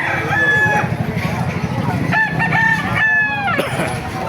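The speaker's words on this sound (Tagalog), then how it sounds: "Papakita ko sa iyo mga gandang manok dito sa Kalumpit." Several roosters, including a Kanawayon gamecock, crow loudly and close by in Calumpit, Philippines, one long call following another, with clucking and chatter from other fowl throughout.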